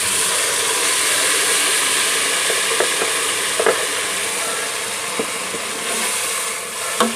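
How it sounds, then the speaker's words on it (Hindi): Blended onion and tomato paste sizzles steadily in a hot frying pan while cooking aloo matar curry, a continuous loud frying hiss with occasional stirring clicks and scrapes, no voices. "अब जो हमने प्याज और टमाटर को ब्लेंड किया था वो उसके अंदर शामिल कर दें।"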